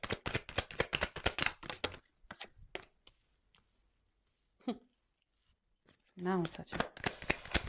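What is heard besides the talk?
handling and shuffling tarot cards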